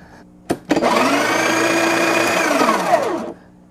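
A Breville Barista Express coffee grinder, freshly cleaned, starts with a couple of clicks, whirs steadily for a few seconds at close range, then spins down to silence.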